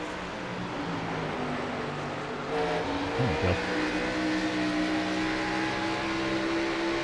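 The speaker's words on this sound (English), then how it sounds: "Listen to the throttle control Rockingham requires" Xfinity Series race car at Rockingham, heard on board with the engine droning steadily, then the throttle dipping and bumping as it drifts into a corner before pulling back up to a sustained high whine; a brief spoken remark partway through.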